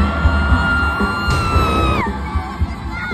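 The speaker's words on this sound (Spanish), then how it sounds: "le tienes que echar muchas porras y gritar ahorita ahí" A crowd at a palenque mariachi concert in Texcoco yells and whoops: a loud, drawn-out cry holds, then slides down and breaks off, over a busy crowd din.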